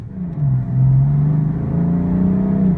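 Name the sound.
2016 BMW M3 sedan accelerating from stop sign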